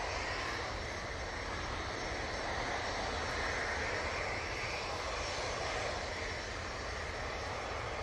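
A jet airliner in Starlines livery accelerates down the runway at Manchester Airport on its takeoff roll, a steady broadband engine roar held at moderate distance throughout with no voices.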